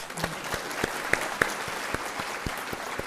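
Sustained applause from a lecture audience at IISc, a dense wash of many hands clapping with a few sharper individual claps standing out, steady throughout.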